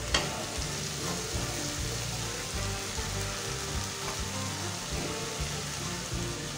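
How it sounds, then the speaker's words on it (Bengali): Boiled elephant apple frying with a spice mix in a pan for pickle, a soft continuous sizzle with light stirring, fairly quiet and steady, no voices. "এখন আমি যে চালতাটা সেদ্ধ করে রেখেছিলাম"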